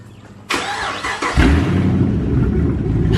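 A V8 car fitted with an aftermarket stainless exhaust cranks with a few whirring turns, then fires into a loud, deep, rumbling idle, close up with no talking.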